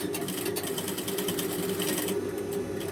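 A sewing machine stitches a shirt collar in a rapid, steady run of needle clatter lasting a few seconds, close and fairly quiet, with no voices.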